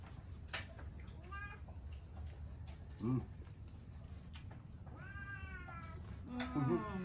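A cat meows several times close by, with drawn-out cries between background voices and household noise.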